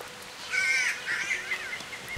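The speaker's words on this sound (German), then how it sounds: "der blöde Vogel ist immer noch da" A crow in Kingdom Come: Deliverance caws loudly and nearby, a few harsh raspy calls in quick succession standing alone over a quiet background.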